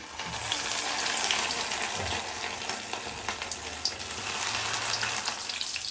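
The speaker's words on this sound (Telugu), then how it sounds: "ఇప్పుడు ఆయిల్లో డీప్ ఫ్రై చేసుకోవాలి" Raw prawn snacks coated in egg deep fry in oil, making a continuous, rushing bubbling hiss at moderate volume with small pops scattered through it.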